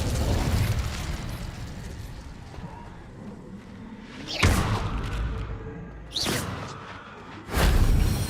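Incendio fire spells cast in Hogwarts Legacy burst out in three sharp, loud whooshing blasts spaced a couple of seconds apart, each flaring suddenly then decaying, after a rumbling stretch of ambient game sound.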